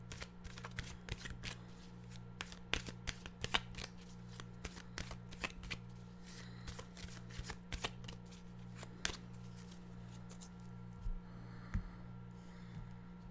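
A deck of animal oracle cards being shuffled, with repeated crisp riffling and flicking bursts, close and fairly quiet over a steady low hum.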